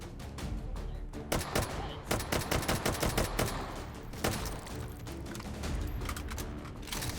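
Video game gunfire mixed with the mechanical clacks of a small-magazine weapon being reloaded, including a rapid burst of evenly spaced shots and ratcheting metal clicks over a steady dense backdrop.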